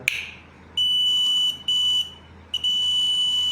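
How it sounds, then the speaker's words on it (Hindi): A multimeter continuity buzzer beeps as a switch under test is turned on, emitting a loud, steady high tone in several long bursts separated by short gaps, with a click at the start and no talk. "मैं जैसे ही ऑन करूंगा अगर ये स्विच सही हुआ तो बजर बजेगा।"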